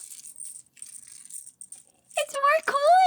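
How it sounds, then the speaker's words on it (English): Coins in a bag give off light, faint metallic jingles in short shaken bursts. A lively voice then speaks over the end. "It's more coins!"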